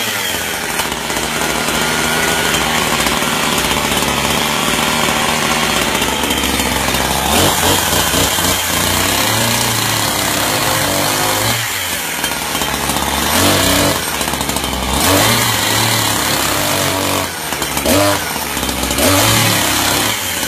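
A chainsaw, unused for six months, roars into life and keeps running loud and close, its harsh buzzing engine surging and revving unevenly throughout.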